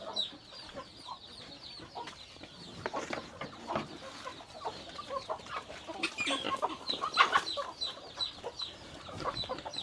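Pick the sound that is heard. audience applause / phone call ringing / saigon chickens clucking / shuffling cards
saigon chickens clucking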